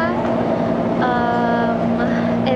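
A Taipei MRT blue line metro train hums steadily while riding, with a constant drone and faint rising electric whines from the motors, heard from inside the carriage without speech.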